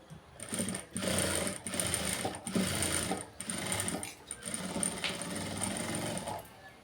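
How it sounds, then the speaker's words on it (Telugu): Sewing machine stitching a blouse, running in loud, close whirring bursts of about a second each with brief stops between, and a voice faint underneath. "ఇది లోపలికి నెమ్మదిగా కుట్టుకోవాలి"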